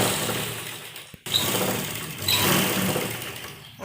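A sewing machine runs steadily while stitching the hem of a nighty, a continuous close mechanical whir with a brief pause just after one second before it resumes.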